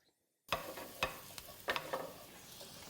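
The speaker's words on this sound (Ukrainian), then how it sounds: "Цибуля смажиться, чесник уже там починає підгорати." Onion and garlic sizzle quietly in a pan for a sauce, the garlic starting to burn, punctuated by several scraping stirs at irregular intervals.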